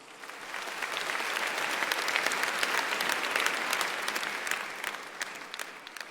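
A church congregation applauds during a sermon, with many hands clapping in a dense, sustained wash that swells to a peak and then gradually tapers off.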